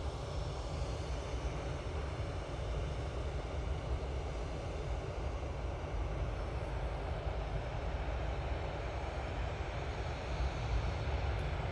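Steady, distant roar of an easyJet airliner departing Manchester Airport for Istanbul, a continuous low rumble with no breaks across the whole stretch.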